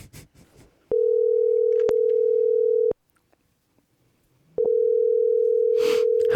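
A telephone dial tone sounds while a call is placed, as two long, loud, steady tones separated by a short silence, with brief clicks and faint voices around them.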